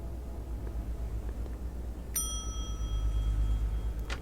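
A hotel front-desk bell in The Wolf Among Us gives a single bright metallic ding that rings out and decays slowly over a low rumbling room background, followed by a soft tap near the end.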